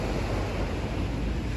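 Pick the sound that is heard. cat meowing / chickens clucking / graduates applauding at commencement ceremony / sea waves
sea waves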